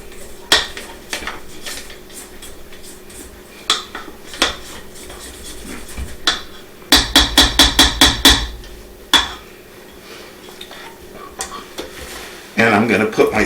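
Spatula or scraper knocking and scraping against a mixing bowl while runza dough is mixed, with a quick run of clattering taps in the middle and kitchen noise throughout, close and fairly loud.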